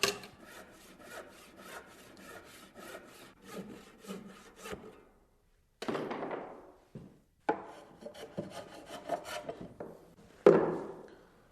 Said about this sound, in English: Saw this with a table saw and this with a hand saw.